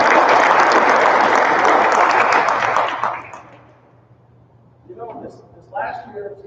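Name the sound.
audience applause at greenhand ceremony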